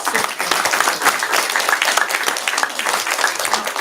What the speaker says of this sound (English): how about one more round of applause for